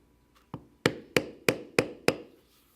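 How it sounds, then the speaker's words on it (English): Undercut beveler tapped with a mallet on a leather flower pattern: six crisp, evenly spaced knocks, close and clear, with a softer lead-in tap and a short ring after each strike. "undercut beveler to lift the inside curves all around the flower"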